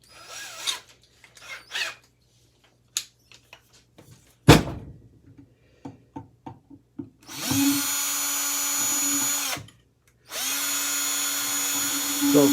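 Power drill boring out a stubborn screw from a ceiling fan being scrapped: scattered clicks and knocks first, then two long, loud whirring runs of the motor biting into metal, separated by a short pause.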